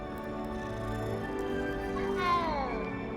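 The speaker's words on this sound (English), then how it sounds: "It's a cat, and I'm petting it." A cat meows softly while being petted in the video game Hogwarts Legacy, a short drawn-out mew rising near the end over a quiet in-game ambient background.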